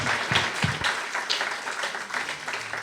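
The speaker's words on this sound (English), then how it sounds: "big round of applause, please, to welcome Jim Murray." An audience claps to welcome a performer, a moderate wash of applause with a few sharper individual claps near the start, fading slightly toward the end.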